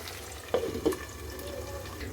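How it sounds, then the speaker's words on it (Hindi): Finely chopped tomatoes and onions fry in a pan for an Indian chicken curry, giving a steady, even sizzling hiss with two brief clinks of utensil against cookware partway through. "अब हम इसमें 2 टमाटर ऐड करेंगे, जिसको मैंने बिल्कुल ही बारीक काट के ले लिया है। इसे भी हम प्याज के साथ थोड़ा सा इसे भूनने देते हैं।"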